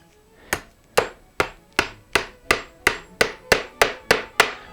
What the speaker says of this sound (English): About a dozen hits per tack.